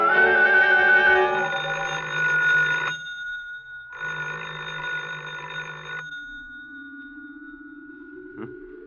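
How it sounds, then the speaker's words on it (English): An electronic telephone ring in a 1948 radio drama sounds in two long bursts separated by a pause, followed by a rising tone and a brief click, with no talking. "I thought I heard the phone."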